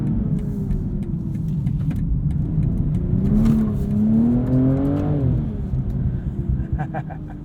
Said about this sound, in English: You're into third and you can rev this thing out and really enjoy that straight six.